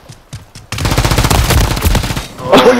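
Call of Duty: Modern Warfare 3 gunfire opens with a few separate shots, then breaks into a loud sustained automatic burst of rapid rounds, ending in a brief gap and a final louder blast.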